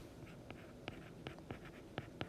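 Pen or pencil writing an equation of a line by hand on paper, a soft continuous scratch broken by a handful of sharper tap-like strokes, close and fairly quiet with no voices.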